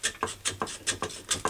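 A saw cuts a caprail clamped flat in a vise, making quiet, rhythmic rasping strokes about four to a second, close and dry.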